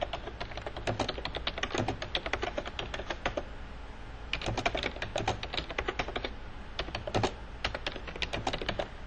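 Steady close-up typing on a computer keyboard as invoice details go in line by line, bursts of rapid clicking broken by a brief pause midway, no one speaking.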